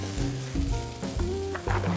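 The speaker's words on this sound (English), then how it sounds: "We gotta have the sizzle. You hear the sizzle?" Steady close sizzling of bread frying in butter on a hot pan, a constant crackly hiss with soft clinks and scrapes on top.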